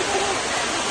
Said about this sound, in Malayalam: ആ മനോഹരമായ വെള്ളച്ചാട്ടം